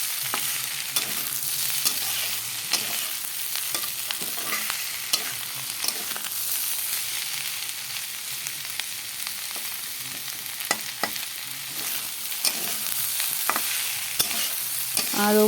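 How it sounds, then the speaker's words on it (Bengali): Potatoes and onions fry together in a pan while a spatula stirs them, a continuous sizzle broken by frequent scraping and clinking strokes, close and steady with no talking. "এখন আলু পেঁয়াজটা একসাথে ভেজে নেব।"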